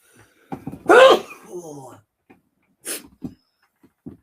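A single loud sneeze bursts out, followed by a sniff and a few small breathy noises close to the microphone.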